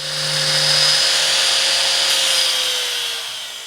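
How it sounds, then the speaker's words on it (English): Steel U-bolts on a ladder-mounted bike rack being ground down in place, a steady high-pitched whine of the grinder against metal that runs close and loud for several seconds and then tapers off at the end. "I went ahead and ground down the bolts as they were mounted on the rack so that we get a nice smooth finish"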